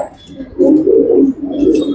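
A pet pigeon kept for breeding coos up close, with two loud, throaty, rolling coos in quick succession.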